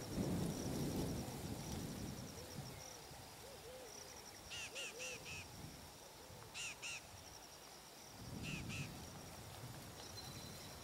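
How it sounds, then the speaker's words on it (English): Birds give sharp alarm calls in African bush, with short repeated bursts of high, piercing notes in a few clusters over steady rain-like background noise and low rumbling. "the sharp calls of birds alert Doug to an approaching predator"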